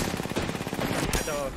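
Rapid automatic gunfire in Apex Legends, a close, loud burst of evenly spaced shots lasting over a second before cutting off, with a brief voice fragment near the end.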